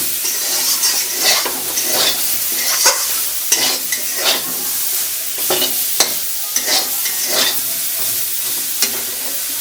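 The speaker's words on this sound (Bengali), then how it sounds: "হালকা করে একটু ভেজে নিচ্ছি বেগুনটা" Eggplant lightly frying in a pan for a fish curry, with steady sizzling and repeated scraping stir strokes from a spatula, close and continuous without any talking.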